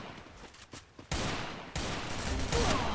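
Gunfire in the Free Fire battle royale game: dense sustained bursts of automatic fire that jump louder twice, continuous and close, with no talk over it.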